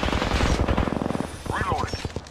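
Fast bursts of gunfire in the Apex Legends video game, close and loud in the first second, then a few scattered shots under brief game voice lines and sound effects.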